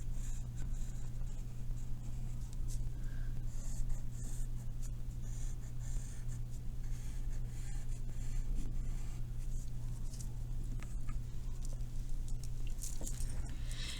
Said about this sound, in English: we're going to come in and draw the spikes